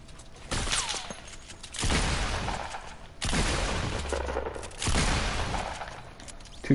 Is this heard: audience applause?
no